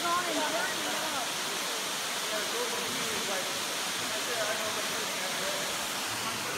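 Foster Falls waterfall roars as a constant, dense rush of falling water, loud and steady throughout with no pauses, with faint voices barely under it.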